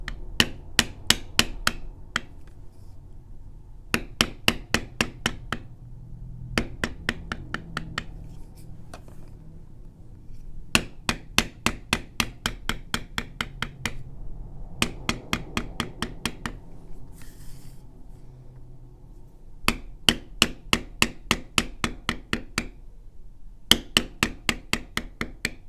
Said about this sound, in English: when I hit those with a bevel